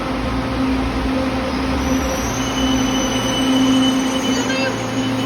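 A train pulls into a station and slows to a stop, a steady rumble with faint wheel squeal and a low hum running throughout at close range.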